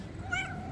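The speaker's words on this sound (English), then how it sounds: "Look at this cat, so amazing." A cat gives a single short, faint meow, brief and close, over a low background hum.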